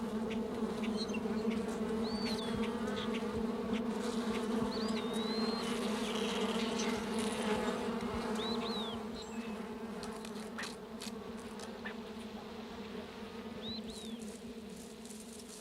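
A honeybee colony hums in an oak hickory forest, a dense, steady buzz of many insects that continues throughout, with a few short bird chirps rising above it.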